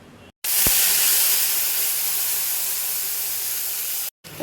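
Mustard, poppy seed and sesame paste drops into hot oil and sizzles loudly as one steady, broad hiss that holds for several seconds and then cuts off abruptly, with no one talking.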